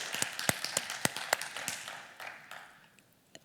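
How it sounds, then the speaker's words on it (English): An audience at an international workshop applauds an invited speaker, with scattered claps that start brisk and distinct and then thin out and fade. "give a big applause to our invited"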